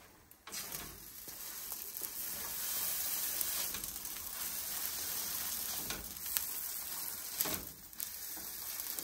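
A Cubano sandwich sizzling in a pan after being flipped, a steady crackling fry with a few louder scraping bursts, close and alone without talk.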